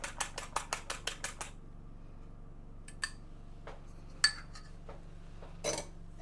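Fork or whisk rattling against a bowl while beating an egg for egg wash for mince pies, a quick run of about eight sharp clinks, then scattered lighter taps and knocks.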